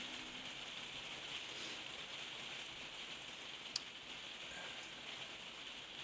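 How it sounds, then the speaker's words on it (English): Rain patters on a roof as a faint, steady hiss in the background, with one brief sharp tick partway through. "It's the rain on the roof, I'm afraid."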